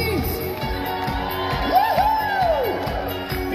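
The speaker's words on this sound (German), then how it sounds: "Ein Applaus für Thomas Hies!" An audience cheers, whoops and shouts steadily at a live show, a dense crowd roar with a few high whistle-like yells rising above it.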